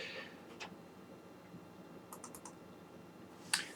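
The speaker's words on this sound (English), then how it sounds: "So if I click on the Triton Laboratory icon" Mouse clicks on a computer opening the Triton Laboratory software, a few soft, sparse clicks at close range with a sharper click near the end over quiet room tone.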